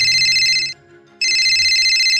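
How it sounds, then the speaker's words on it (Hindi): A loud electronic phone ringtone trills in two bursts separated by a short pause, close and clear with no talking. "ये फोन किसका आ रहा?"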